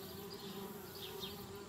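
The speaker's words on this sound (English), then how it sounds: "Darn bees, trying to move into our treehouse." Bees swarm around a beehive near a treehouse in the adventure game Anna's Quest, a steady droning buzz with a low hum and a few rising whines as insects pass close, heard alone without talk.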